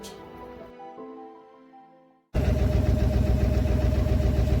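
Fading ringing tones give way to a sudden loud engine rumble that keeps running steadily and close, from a boat on a river ride through Bhitarkanika National Park, India.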